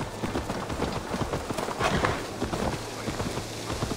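Horse hooves clip-clopping at a brisk, steady gait in Assassin's Creed Valhalla, close and continuous with a busy ambient bed around them and no speech.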